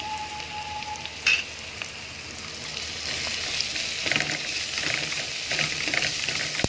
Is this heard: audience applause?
no